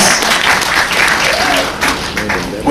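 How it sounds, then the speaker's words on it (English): Audience applause during a talk about John Muir and Glacier Bay in Alaska, a brief dense burst of clapping that keeps steady and close for a few seconds, with a voice faintly over it. "Did I get a little applause for John Muir?"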